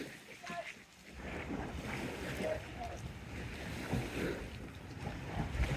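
Water sloshes and washes in waves at high tide on a river beach at Teignmouth, amid gusty wind noise, a constant churning wash with no clear breaks.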